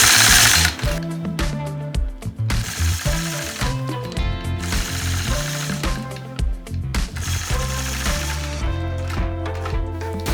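Sewing machine quilting curved heart shapes on a quilt block with a ruler, a steady rapid mechanical stitching chatter that starts and stops in bursts, close and loud throughout.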